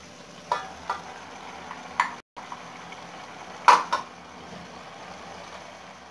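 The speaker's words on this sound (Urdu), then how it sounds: "اب میں اس کو ڈھک دوں گا" A lid is set onto a cooking pot of spinach kofta, giving a few sharp metallic clinks over a faint background of simmering and stirring.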